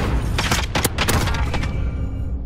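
Video game combat with grenade explosions and gunfire, a dense loud burst of overlapping shots and booms that tapers off near the end.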